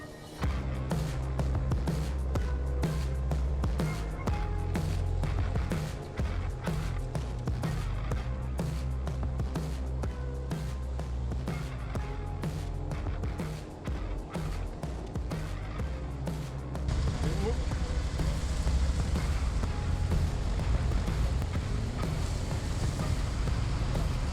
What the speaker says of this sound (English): We watch how tracked all-terrain vehicle is trying to drive here.